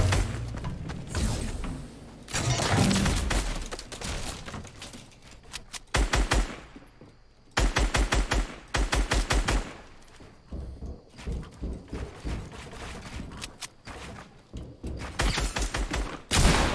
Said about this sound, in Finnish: Please, älkää ampuko mua muualta, please.